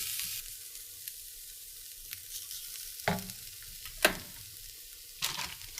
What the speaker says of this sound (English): we're going to add some garlic, about 3 cloves. We'll stir this up for about 30 seconds